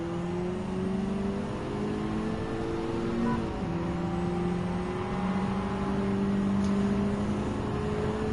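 Racing car engines in Gran Turismo 7, including a Lancer Evo X, holding a loud sustained drone with tones that shift as revs rise and drop, briefly falling away around a gear change before climbing again, with no talk.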